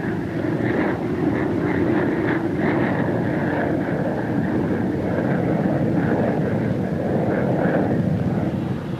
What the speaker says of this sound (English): the pilot puts the plane into a shallow dive in order to bring it home with even greater speed